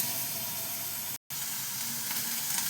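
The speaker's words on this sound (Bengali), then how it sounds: "এইবার আমি নাড়াচাড়া করতে করতে একদম শুকনো শুকনো মাখা মাখা করে" Taro leaves (kochur shak) frying in a little oil give a continuous close hiss and sizzle while being stirred, broken by one brief silent gap and a small clatter at the end.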